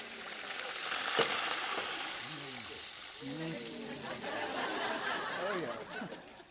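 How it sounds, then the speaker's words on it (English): Stock goes into a hot skillet of pork and vegetables and sizzles steadily in the background while someone talks over it. "I would put a little stock in the skillet like this."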